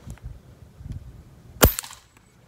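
A single sharp rifle shot cracks out, fired at cork targets outdoors, loud and close, preceded by faint low rumbling and followed by a short fading echo.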